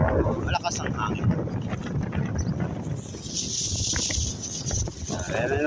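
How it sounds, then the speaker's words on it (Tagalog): Strong wind buffets the microphone in a constant rough roar, with traffic-like rumble and a brief hiss midway. "Malakas ang hangin."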